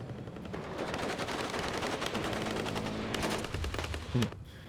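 Rapid automatic gunfire crackles in sustained bursts across a WARNO battlefield, fairly distant and dense, with a faint low rumble beneath and a brief heavier thump near the end.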